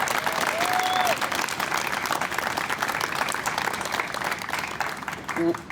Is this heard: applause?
yes